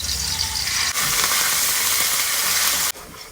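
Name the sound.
spice paste frying in oil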